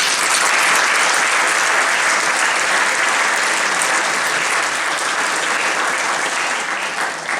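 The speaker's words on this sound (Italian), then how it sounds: "Per loro vi chiedo un applauso." Sustained audience applause at the Premio Giorgione 2022 award ceremony evening, steady and dense throughout, loud and close with no voices over it.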